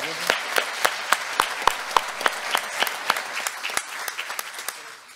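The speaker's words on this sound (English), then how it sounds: "Let's give them another hand clap of praise" A church congregation claps for veterans during a Sunday worship service, a steady, dense round of hand claps that carries on for about five seconds at a fairly even level.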